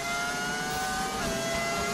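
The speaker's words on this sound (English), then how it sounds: "it's the V10 engine is what you're hearing" A high-revving V10 Formula 1 car engine in the video game F1 2015 screams steadily, its pitch dropping briefly before climbing again, loud and close with no talking.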